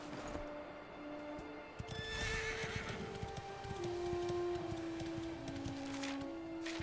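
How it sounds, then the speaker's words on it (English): A horse whinnies loudly over a steady Dragon Quest game backdrop, with hooves clip-clopping throughout and a sustained musical drone underneath. "Alright, let's get the horse back."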